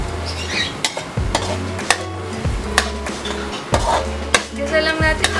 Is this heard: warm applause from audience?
no